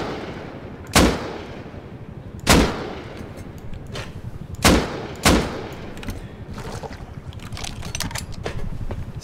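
Several heavy blasts go off in a video game as explosives breach a base, four or five sharp booms at uneven intervals, each trailing off, with faint thuds between them.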